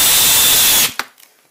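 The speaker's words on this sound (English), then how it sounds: "I wasn't quite used to the speed and the power of that drill." A powerful cordless drill countersinking a hole in wood whirs loudly and steadily for under a second, then cuts off, followed by a sharp knock and a few faint clicks.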